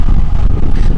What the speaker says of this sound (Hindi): तेज हवाएं चल रही है बीच मैदान के अंदर